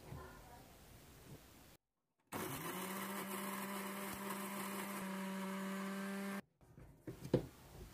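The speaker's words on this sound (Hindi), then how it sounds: "अब हम पीसेंगे बादाम, काजू, सफ़ेद तिल, इन तीनों को हम एक साथ पीसेंगे।" A blender grinds almonds, cashews and white sesame seeds together in a kitchen, a loud steady motor whine with grinding texture lasting several seconds, bracketed by brief quiet pauses and faint background noise.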